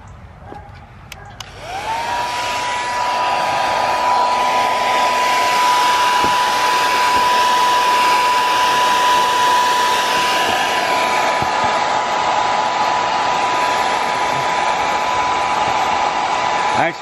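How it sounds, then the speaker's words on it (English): A Weiss blow dryer heats vinyl wrap on a Kawasaki KRX 1000, switching on with a short rising whine, then holding a loud, steady whirring hum close by for the rest of the clip. "with the Weiss blow dryer"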